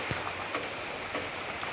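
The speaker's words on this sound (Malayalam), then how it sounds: "ഇന്ന് മഴ ശക്തി പ്രാപിച്ച ദിവസമാണ്" Rain falling steadily in a soft, even wash of patter, with a few faint louder drops standing out briefly.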